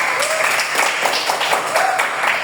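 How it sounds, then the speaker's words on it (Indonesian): Classroom applause, a steady burst of many hands clapping together, fairly loud and sustained for a couple of seconds. "Tepuk tangan untuk Lili dan juga Rizkia."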